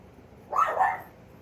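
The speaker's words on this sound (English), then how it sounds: "That's my dog." A dog gives a single short bark, or two quick overlapping ones, moderately loud in a quiet indoor room.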